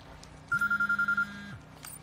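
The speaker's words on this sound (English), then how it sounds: "What the hell is that? It's a phone." A phone rings in the video game Quantum Break: a loud, close electronic trill of rapid pulsed beeps lasting under a second, followed by a faint tail and no speech.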